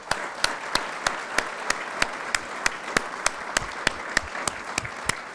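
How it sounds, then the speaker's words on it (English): Applause rises from the audience at the 2024 Kern Council of Governments Regional Awards of Merit ceremony, where one nearby pair of hands claps in a steady, sharp rhythm over a softer crowd bed. "Please join me in one last round of applause for all of our recipients."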